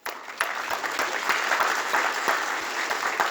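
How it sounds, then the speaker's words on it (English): A congregation at the Rite of Election in the Cathedral of St. Eugene, Santa Rosa, gives warm, sustained applause: a dense wash of many hands clapping steadily, with no talking over it. "we want to give you a very, very, very warm round of applause for being here today."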